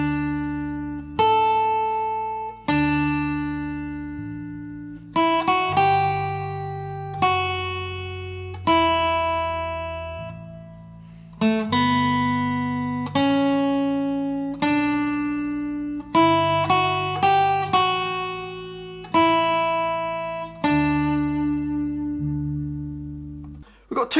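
A plucked acoustic guitar melody plays alone, single notes ringing and decaying one after another in a slow, lilting rhythm.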